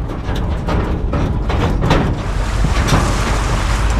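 A vehicle crosses a shallow river, giving a constant loud roar of engine and splashing water mixed with heavy wind buffeting, steady throughout with no pauses.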